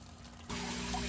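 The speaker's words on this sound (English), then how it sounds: "And the water will be pumped back up." Water pumped back up through a filter screen during ice-water botanical extraction: a steady hiss of rushing water starts abruptly halfway through and continues evenly, fairly quiet.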